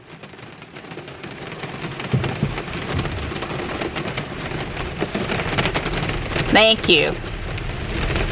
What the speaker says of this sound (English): See, this is how much rain we're having right now. Like flooding amounts of rain, like flash flood.